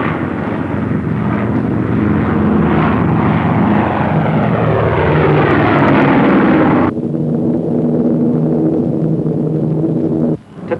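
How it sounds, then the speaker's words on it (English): A propeller-driven drone aircraft from the early 1950s roars loudly and steadily overhead, the engine drone shifting abruptly partway through and continuing to the end with no talk. "switch the manless controls of the drone aircraft to a mother plane aloft"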